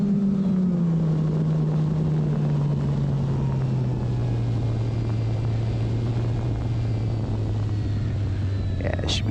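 A steady buzzing electric motor drone of a small RC airplane on a 3S battery, gradually lowering in pitch as it moves away, continuous throughout.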